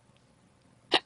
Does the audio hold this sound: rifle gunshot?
no